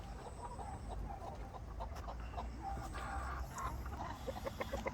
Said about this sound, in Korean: 닭들이 지금 올라가려고 서서히 햇대에 올라갈 준비하고 있습니다